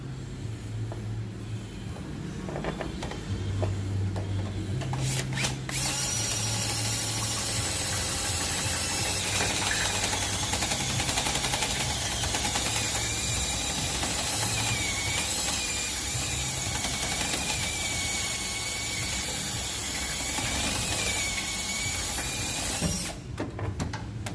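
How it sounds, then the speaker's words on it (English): A step drill bit whines steadily through metal for a long stretch while mounting brackets are made for a 2018 Ford F550, with grinding and squealing tones, a couple of brief clicks near the start and end. "I'll just keep stepping my drill bit up as I go."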